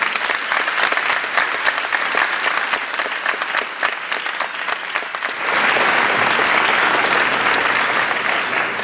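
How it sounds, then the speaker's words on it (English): Audience applause for young primary-school dancers at a dance festival, sharp individual claps at first that thicken into a loud, continuous roar of clapping from a large crowd. "I have to give them a round of applause before we even begin"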